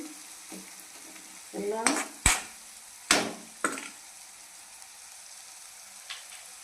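Onions fry in oil for a masala dosa filling, a quiet low sizzle broken by a few sharp spatula scrapes and clacks against the pan.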